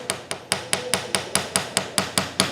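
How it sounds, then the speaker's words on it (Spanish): A clutch disc is tapped with a tool to check for rattling, giving about a dozen quick metallic knocks in a fast, even rhythm, close and fairly clear. "en algunas zonas el disco se encuentra levantado y por lo tanto crea un sonido"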